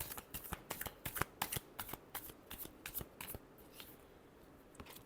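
A deck of tarot cards is riffled and shuffled in a quick run of crisp, snappy flutters, close and fairly quiet. It tapers off toward the end.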